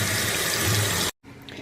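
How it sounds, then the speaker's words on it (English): Hot water rushes steadily into a washing machine set to a large load, then cuts off abruptly, leaving a quieter background. "We got the water going and it is running on hot."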